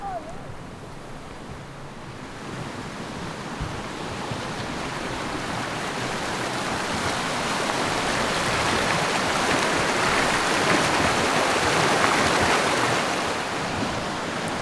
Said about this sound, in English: Oh, there's water. You hear that, Caroline? What is it? There's a creek.